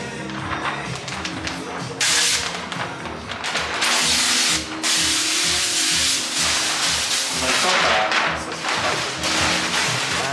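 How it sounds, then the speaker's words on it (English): Application gel is sprayed onto a paint protection film piece for the bumper of a Mercedes A45 S, heard as several close, loud bursts of hissing spray separated by short pauses, over a low background hum. "now it's being sprayed onto the piece for the bumper"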